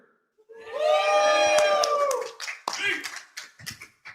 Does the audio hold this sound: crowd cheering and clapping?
yes